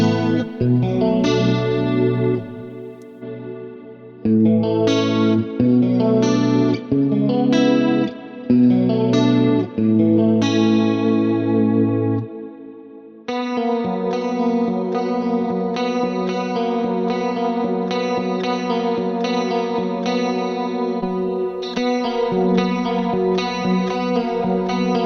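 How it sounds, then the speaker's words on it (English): Electric guitar played through a Neural DSP Quad Cortex dual chorus effect in manual mode, strummed chords and picked notes shimmering with wide, wavering chorus and some echo, in loud phrases with short pauses, no voice. "this is the dual chorus."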